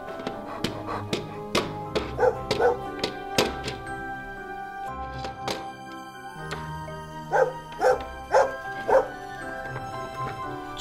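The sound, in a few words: dog barking in a restaurant video game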